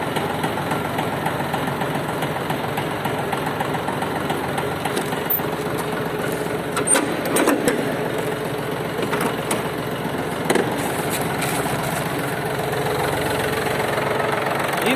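A Yanmar AF-24 Japanese tractor's diesel engine runs steadily at idle with a loud, even knocking chug, close by and continuous, with occasional clatter on top.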